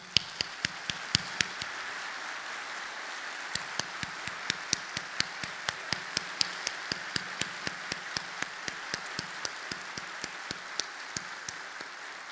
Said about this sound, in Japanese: 皆様盛大な拍手をお願いいたします